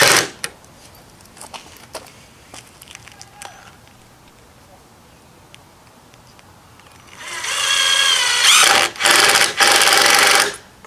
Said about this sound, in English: Pretty much countersinking all my bolts, all my screws or whatever you decide, or nails.